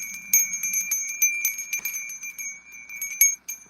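Small bells ring out in a series of bright, shimmering strikes, each chime ringing on and fading, irregular and close in an otherwise quiet space.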